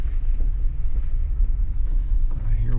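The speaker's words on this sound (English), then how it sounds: "It's really windy out there." Strong wind blusters against the microphone outdoors in the desert, a loud and continuous low roar that gusts unevenly throughout with no break.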